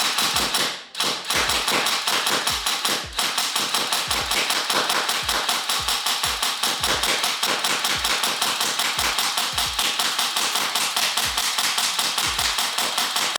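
An ICS CXP APE airsoft rifle fed from an ICS 120-round T-Mag fires a long run of semi-automatic shots, each a crisp, near tap-thump at a steady, slightly uneven pace, alone with no talk.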